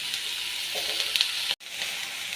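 Ginger and garlic paste with curry leaves frying in a pan gives a steady, close, loud sizzle that cuts out for a split second partway through, then resumes.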